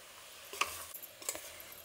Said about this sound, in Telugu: ఇలా మసాలా అనేది బాగా పట్టాలండి ముక్కకి. కొంచెంసేపు వేయించామంటే బాగా పడుతుంది.